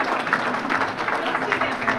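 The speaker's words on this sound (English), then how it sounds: "One more round of applause." Applause at an awards ceremony, a dense crowd clapping steadily and evenly throughout.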